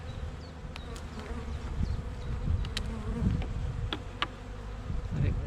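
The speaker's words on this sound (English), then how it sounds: "Just a lot of bees hanging out." A colony of honey bees hums close up in an opened beehive during the first spring inspection, a thick continuous buzz with a few sharp clicks from frames being handled.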